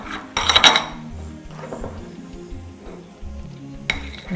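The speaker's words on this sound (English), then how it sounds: "And you just stir it till it's nice and smooth." A spoon scrapes and clinks against a bowl while stirring a lemon glaze tinted with yellow gel, with a sharp clatter near the start, softer scraping strokes in between and another clink at the end.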